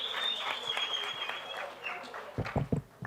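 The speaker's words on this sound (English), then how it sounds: "a round of applause for Kolani" Audience applause at a live interactive session with an LGBTQI+ society, a dense patter of clapping that runs steadily and then thins into a few louder, closer claps near the end.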